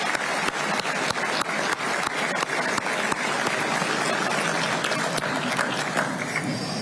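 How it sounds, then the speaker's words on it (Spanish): Congress members applauding during the Paraguayan president Santiago Peña's first report to Congress, a steady, full round of clapping in a large chamber with distinct sharp claps standing out, continuous from start to end. "Pido, queridas amigas y amigos, un aplauso para René"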